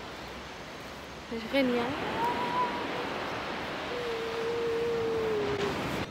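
Sea waves wash steadily onto a beach in Cádiz, a soft continuous roar of surf, with a person briefly speaking and a thin whistling tone over the top.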